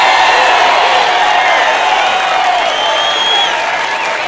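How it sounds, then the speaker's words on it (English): Loud, sustained crowd applause mixed with cheering voices at a Chuck E. Cheese birthday star show, holding steady throughout. "let's have a big round of applause for your Chuck E."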